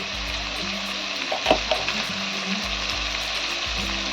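Chicken skin and eggplant frying in a pan over medium gas, a constant close sizzle with a few sharper spatters and stirring scrapes midway, no talking.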